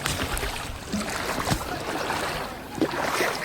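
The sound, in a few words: boat moving through floodwater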